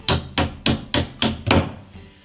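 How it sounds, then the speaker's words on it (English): Six evenly spaced hammer blows strike a metal door hinge pin, driving it down, each a sharp loud knock with a short ringing decay, close and with no voices. "we're going to have to use the hammer to knock it all the way down"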